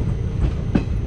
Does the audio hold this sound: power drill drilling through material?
no